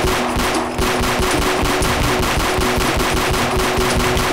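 Rapid automatic-style Glock pistol fire in a Roblox hood game, a continuous loud rattling stream of shots with steady rhythm and no pause.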